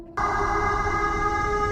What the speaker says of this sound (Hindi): और अचानक ये सायरन बजना